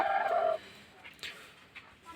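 A native country hen lets out one short, loud call at close range, followed by faint scattered rustling and soft sounds.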